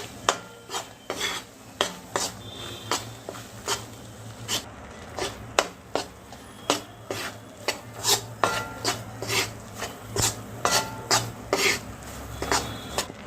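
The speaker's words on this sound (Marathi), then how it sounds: "यावर आता आपण 3-4 चमचे बेसन पीठ घालून द्यायचं आहे. पीठ आपण चांगलं आता भाजून घेऊया." Gram flour roasting in ghee for yellow moong dal laddu, stirred in a pan with a steady rhythm of close, rasping scrapes of a spoon across the pan bottom, with no one talking.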